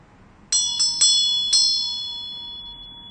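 A Buddhist ritual bell is struck four times in quick succession, each bright metallic ring stacking on the last before a long, clear shimmering decay, close and alone.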